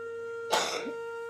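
One brief, sharp cough or throat-clear sounds close by in a household comedy skit, standing out over a steady tonal hum in an otherwise quiet room.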